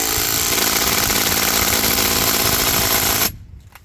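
A loud power drill whines steadily with a rough, grinding buzz while driving fasteners into a rubber driveway curb, then cuts off abruptly near the end, leaving a faint rattle.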